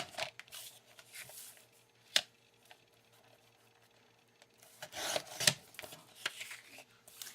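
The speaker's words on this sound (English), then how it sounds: "I'm going to trim this one down with you." Card paper is trimmed down for card making, giving soft rasping slides and scraping strokes with a few sharp snaps, quiet and close in a still room.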